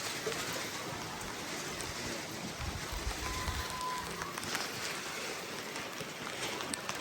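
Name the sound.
rain falling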